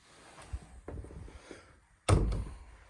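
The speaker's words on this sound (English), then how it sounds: "Probably better if I close this door." A lounge door in a house swings shut with one solid thunk near the end, after a few quieter creaks and bumps from handling the door nearby.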